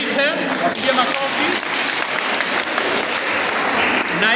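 Dense, steady applause from an audience at a Sunday school children's drama and culture competition fills the whole stretch, loud and continuous with a roomy crowd wash.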